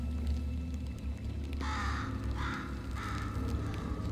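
A crow caws in Portal 2: three harsh, rasping calls in a row over a low steady game hum, each call fairly loud and close.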